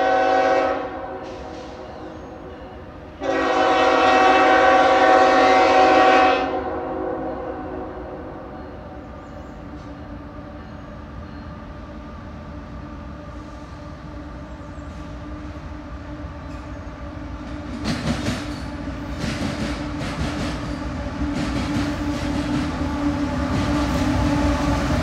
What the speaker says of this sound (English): Coal train, yes.